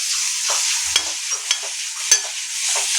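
Ginger garlic paste is stirred in a frying pan over a low, constant sizzle, with a few sharp spatula scrapes and taps spread across the stretch.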